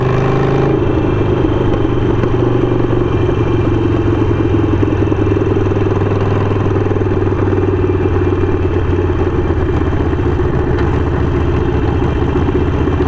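A custom Harley-Davidson Sportster 48 Goodwood Edition motorcycle engine drones loud and steady throughout, a continuous low rumble with rough clattering texture and a slight shift in tone near the start, heard up close with no voices.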